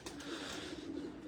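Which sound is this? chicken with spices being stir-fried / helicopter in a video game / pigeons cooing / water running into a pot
pigeons cooing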